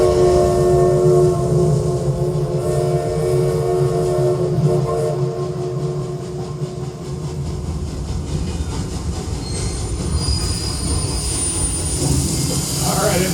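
Big Thunder Mountain Railroad roller coaster train at Walt Disney World's Frontierland, a steady rumbling and clattering ride train with sustained tonal whine and mechanical hum throughout, fairly loud and continuous with a brighter hiss building near the end.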